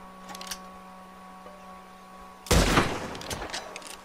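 Gunfire in Red Dead Redemption 2 during a duel-themed mission: a quiet humming lull, then a sudden loud burst of shots with echoing crackle that trails off into scattered follow-up reports.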